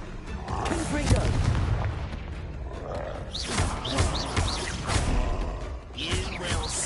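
Repeated Confringo blasting-spell explosions in Hogwarts Legacy, booming bursts and fiery roars mixed with whooshing spell effects and creature growls, loud and uneven across the stretch.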